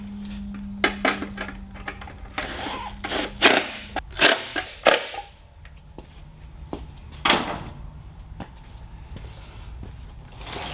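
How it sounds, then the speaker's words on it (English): Socket and 10 mm wrench tightening the front fender bolts on a TrailMaster MB200-2 minibike, a series of sharp metallic clicks and ratcheting clanks close by, with pauses between bursts. "let's snug it up with a 10 mil socket and a 10 mil wrench"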